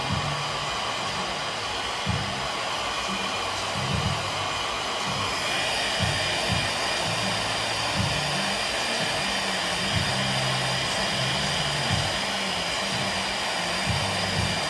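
A hair dryer blows continuously on wet curly hair during a salon styling session, a loud, steady close roar that shifts slightly in tone partway through as the heat is raised.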